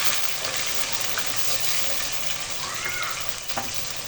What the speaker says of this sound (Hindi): ये देखें जी व्यूअर्स, लहसुन, प्याज, अदरक भुन चुका है।